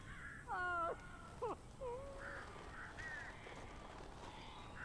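Harsh cawing bird calls in the video game Alan Wake, several short bursts in quick succession early on, then scattered quieter calls over a low background hum, with no talking.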